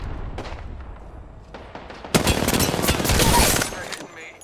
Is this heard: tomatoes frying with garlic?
no